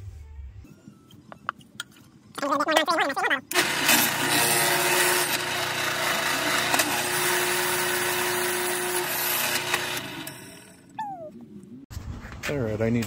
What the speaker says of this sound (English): Now I'm going to drill the last one.